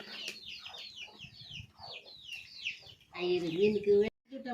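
A chicken clucks in quick, chattering bursts, close and fairly loud, followed by a longer, squawking call.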